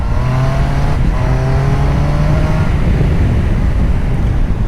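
A 2025 Triumph Tiger Sport 800 motorcycle accelerating on the road, its engine note rising through revs with gear changes, loud and close and mixed with heavy wind rush.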